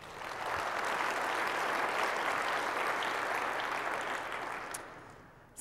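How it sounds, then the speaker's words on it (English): A conference session audience applauds in a broad, even wash of clapping that swells quickly, holds steady for several seconds and fades toward the close. "So please give her another round of applause."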